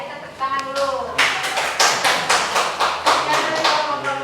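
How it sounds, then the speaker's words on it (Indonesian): A classroom group breaks into applause, mixing scattered claps and taps at close range. A voice is heard at the start before the clapping builds. "Kita tepuk tangan dulu."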